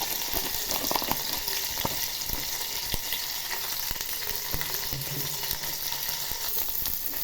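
Onions sautéing in a pan with salt and turmeric for sambar, a steady close sizzle and frying hiss running throughout with faint scraping stir sounds and no talk.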